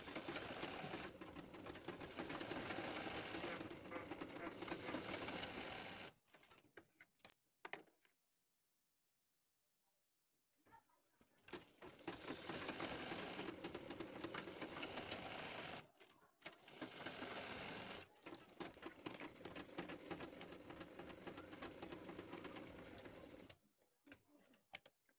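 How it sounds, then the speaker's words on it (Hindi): A sewing machine stitches along the edge of buckram with fabric, running in long steady whirring bursts that stop for a few seconds of near silence midway, then start up again; close and continuous without talk. "बुकरम के किनारे पर लगाएंगे सिलाई।"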